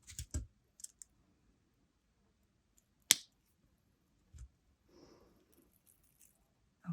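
Wire cutters snip off excess jewelry wire after wrapping a pink wire necklace, a single sharp close click standing out among a few faint taps and small handling noises in a quiet room.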